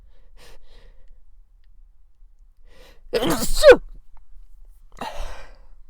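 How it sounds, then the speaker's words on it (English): A single loud sneeze bursts out midway, preceded by a quick sharp inhale and followed a moment later by a short breathy exhale or sniff, in an otherwise quiet room. "You might have noticed I sneezed"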